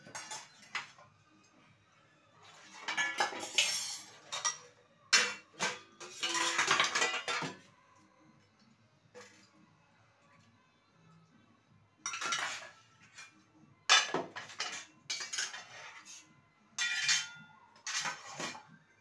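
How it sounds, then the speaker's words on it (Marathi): Dishes, pots and utensils are scrubbed and washed by hand, with bursts of clattering metal and clinking cutlery separated by quieter scrubbing, close and fairly loud. "भांडे घासून घेते, छोट्या जाळीमध्ये ठेवून देते"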